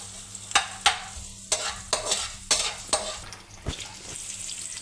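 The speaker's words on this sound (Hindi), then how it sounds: "अब इस तेल में ना हमने ये लहसुन फ्राई करना है और लहसुन डालने के साथ साथ ही ये प्याज हम फ्राई करेंगे।" Chopped garlic and onion sizzle in hot oil while being stirred, a crackling hiss broken by several sharp scraping strokes, close by and alone.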